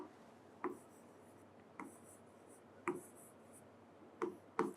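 Pen or marker strokes writing numbers on a board during a primary-school maths lesson on multiplication, heard as a handful of short scratchy taps spread irregularly over a steady low hum, fairly close, with no talk.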